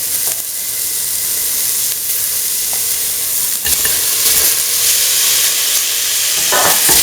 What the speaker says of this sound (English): Mix in the tomato pieces thoroughly.